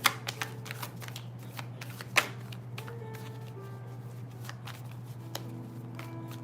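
Tarot cards from a zombie-themed deck being shuffled, a close, steady run of soft riffling and flicking with a few sharper snaps, over a constant low hum and no talk.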